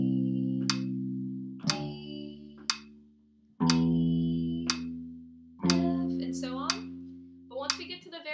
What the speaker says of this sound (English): So now I want to do it actually to a metronome.